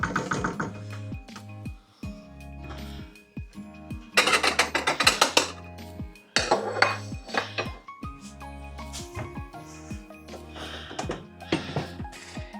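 Metal clinks and rattles of a lid being set onto a pot of simmering pork-belly sauce on a gas stove, a few sharp clanks with quieter rattling in between.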